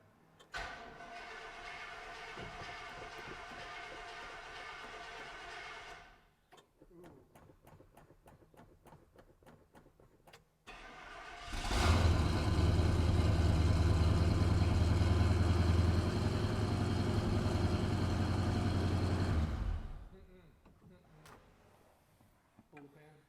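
A 1971 International truck that sat for 30 years, with its original engine, cranks and runs with a loud, steady rumble for several seconds before cutting out. Voices talk in the quieter stretches before it.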